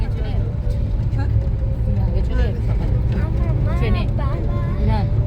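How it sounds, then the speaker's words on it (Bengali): Dense road traffic rumbles loud and close, with engines droning steadily and vehicles passing. People talk over the noise throughout. "গাড়ির আওয়াজে শোনাই যাচ্ছে না"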